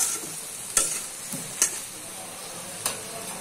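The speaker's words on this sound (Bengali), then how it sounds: "তো এখন একটু ভালো করে নাড়াচাড়া করে নিতেছি।" A spoon stirs lentil dal with egg and potato in a pot, giving soft scraping strokes and a few sharp clinks spaced over a steady low simmering hiss.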